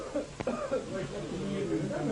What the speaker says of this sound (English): Only rasping coughs break the peaceful silence.